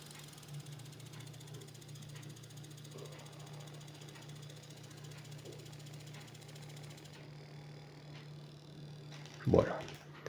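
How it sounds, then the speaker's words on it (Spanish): A universal electric motor runs clockwise on a steady, even hum with a constant low drone throughout, then a brief louder clunk near the end as power is cut. "Y ahora vemos que el motor gira en el sentido horario"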